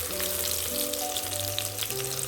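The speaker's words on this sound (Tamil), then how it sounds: "இப்போ பார்த்தீங்கன்னா வெங்காயம் நல்லா வதங்கியிருக்கு." Chopped onions frying in a pan for tomato rice, a steady close sizzle with faint crackles and a low hum running underneath, no voice.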